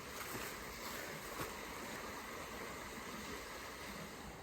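Steady broadband rush of a river flowing through Devon woodland, a continuous wash of water heard close and alone with no voices, level and unbroken throughout.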